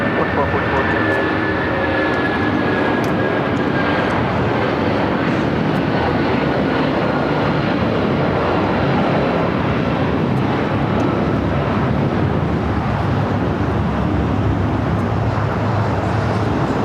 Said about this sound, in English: United 757-200 taking off here on the south side.